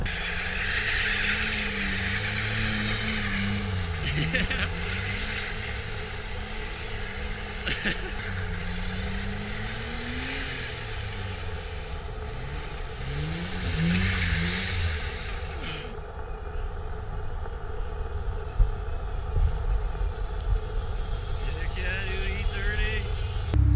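A BMW E30 car drifts, its engine revving and easing in repeated rising and falling sweeps from a moderate distance across a long stretch, mixed with voices and outdoor background noise.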